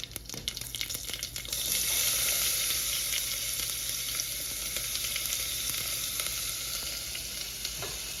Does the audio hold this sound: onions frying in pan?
yes